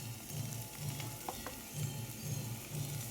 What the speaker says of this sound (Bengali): দুধটা এরকম ফুটছে